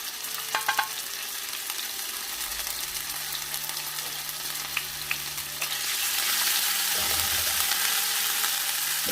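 Ginger fries in olive oil in a pan over low heat, with shrimp pastelles being prepared. A steady close sizzle with light stirring grows louder and fuller in its last few seconds.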